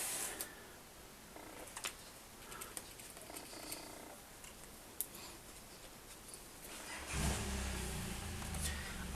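An RC motor on a thrust tester spins up an unbalanced propeller, a steady whirring buzz that grows much louder and rougher near the end, with some clicks and rattles early on.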